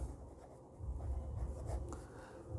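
A pen scratches across paper while someone works through accounting sums, with soft close strokes and faint rubbing coming in short uneven bursts.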